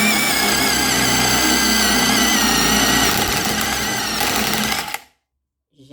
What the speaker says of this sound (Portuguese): Vamos ver aí se a gente vai conseguir furar uma parede.